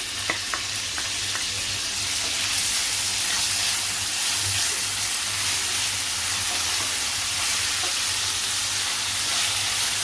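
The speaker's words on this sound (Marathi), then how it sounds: "तेल गरम झालं आहे पहिले आपण कांदा घालूया तेलावरती" Chopped onion sizzling in hot oil in a pan, a loud, continuous frying hiss with crackling spatter that holds steady throughout, no voices.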